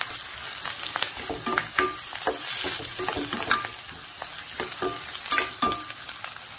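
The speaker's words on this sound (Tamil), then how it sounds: "கொஞ்சம் வெங்காயம் பச்சை மிளகாய் தான் வதங்கிட்டோம்" Onion and green chilies sautéing in a pan for a carrot and beans poriyal, a steady close sizzle broken by repeated scraping and clinking stir strokes, with no voices.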